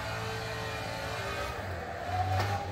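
A drifting car's engine revs steadily in the racing game Assetto Corsa, a sustained droning whine that swells slightly near the end, with no voices.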